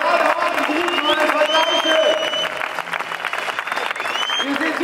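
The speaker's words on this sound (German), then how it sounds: "Erstmal nochmal einen ganz großen Applaus für diese Leistung hier." A crowd at a bodybuilding show applauds and cheers loudly, dense clapping with shouts and whistles running throughout, while a voice talks over it through an amplified sound system.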